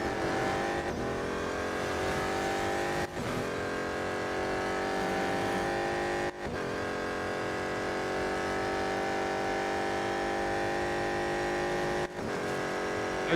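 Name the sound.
BMW M Hybrid V8 race car engine, racing video game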